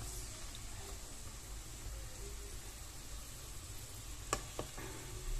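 Leeks and garlic fry in a pan with a faint, steady hiss, broken near the end by a couple of brief utensil clinks.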